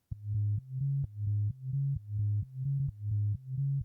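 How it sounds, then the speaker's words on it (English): A deep sub-bass sine tone pulses in a steady repeating rhythm for a house music track, alternating between two low pitches with soft clicks at each note change. "low sine wave, boom"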